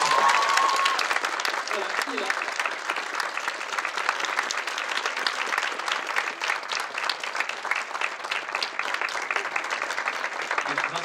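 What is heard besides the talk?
audience applause for voice actor Vincent Ropion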